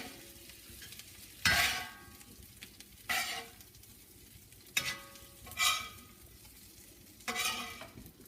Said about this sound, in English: I'm going to go ahead and dish these up in the bowl